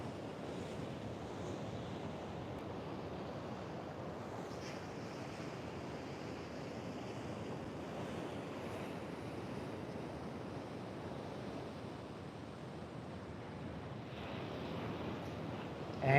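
Ocean waves surging over the rocky front of the Clarence River east wall, a continuous broad roar of surf mixed with wind buffeting the microphone, steady and fairly loud throughout with no talking.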